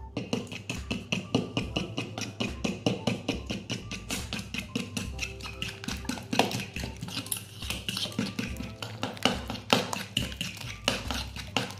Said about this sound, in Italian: il prezzemolo, il formaggio e iniziamo a mescolare.